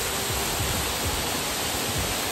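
Roaring rush of El Chorrerón, a waterfall about 25 metres high in Mutiscua, steady and loud broadband water noise filling the whole moment with no talk.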